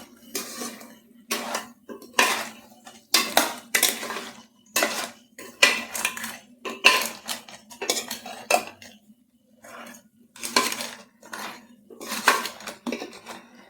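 A spoon stirs crab pepper masala in a metal pan with loud, rhythmic scraping and clanking strokes, each separated by short pauses.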